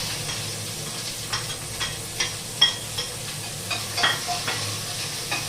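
Onions frying in a pan until browned for a simple home-style chicken masala, a steady close sizzle broken by repeated scraping stirs from a spoon at an irregular rhythm.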